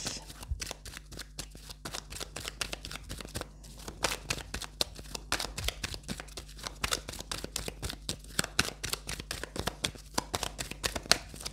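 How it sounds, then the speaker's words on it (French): Lenormand cards being shuffled by hand, a steady run of papery riffles and slaps that continues the whole time, close and fairly loud, with no talking. "Je prends bien le temps de les mélanger parce que c'est vrai que ça fait un petit moment que je n'avais pas utilisé ce jeu"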